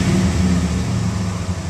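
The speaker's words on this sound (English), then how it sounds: "So, revving it, it's smooth. As far as the rev, it just goes, you know, runs right up perfectly." A car engine converted to run on natural gas with a sequential-injection CNG kit revs smoothly and steadily, a loud close low hum with no talk over it.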